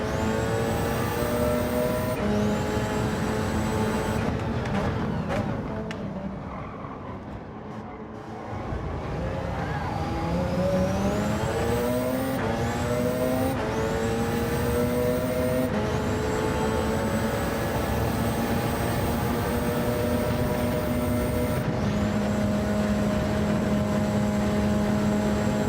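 Gran Turismo 7 race cars, including GR1 cars, scream past in a lobby race, with high revving engines rising and falling through gear shifts. A brief lull comes before the next cars roar by loud and close.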